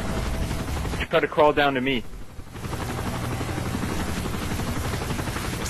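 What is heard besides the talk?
helicopter approaching in video game Call of Duty Modern Warfare 3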